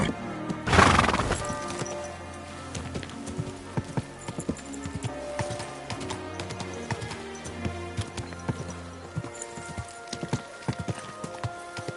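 Horse in Kingdom Come Deliverance 2 gives a loud neigh near the start, then steady hoof clip-clops continue throughout over a busy game soundscape.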